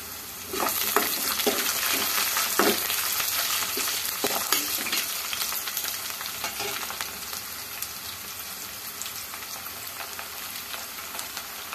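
Chopped onion frying in hot oil with rock salt added: a steady, close sizzle with scattered crackles and a few clinks of stirring throughout.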